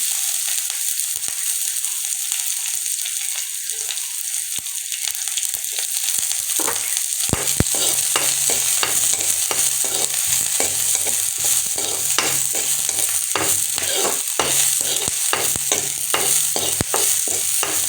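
Chopped onions frying in hot oil in a pan, a quiet start giving way to steady sizzling with scraping stirs and rattles throughout, close and continuous with no talking.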